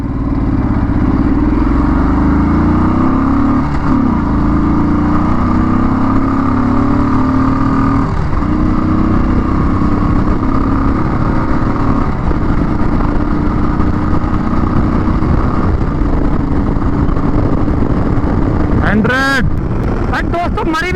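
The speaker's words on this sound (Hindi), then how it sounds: "अब इसको भगा के और देख लेते हैं कैसी चल रही है टॉप स्पीड और 0 to 100" A Royal Enfield motorcycle engine drones loudly and steadily as the bike is pushed hard toward top speed, rising gradually in pitch with heavy wind rush throughout; a brief shift interrupts the pull near the end.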